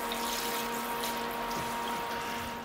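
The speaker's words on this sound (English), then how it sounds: "I'm rinsing all the soap off the tree now, flushing it out of the soil." Water rinses soap off a grapefruit bonsai tree and flushes it out of the soil, a steady broadband wash of running water with a faint pump-like hum beneath, continuous and close throughout.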